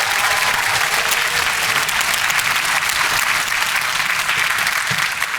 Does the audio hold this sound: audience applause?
yes